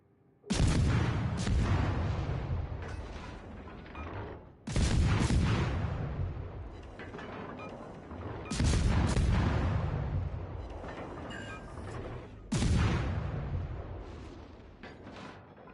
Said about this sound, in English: Yep, I see you shooting at me.